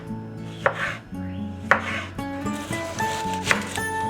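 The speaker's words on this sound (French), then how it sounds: "la tomate, on va couper grossièrement en quartier comme ça" A knife cuts a tomato into rough quarters on a board for a simple vegetable soup, with four sharp chops spaced unevenly, close and clear, over soft background music.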